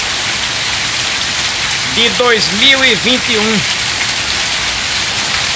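Heavy rain pours steadily in the dry backcountry of Pernambuco, Brazil, a dense, loud hiss with no thunder, while someone speaks briefly over it midway.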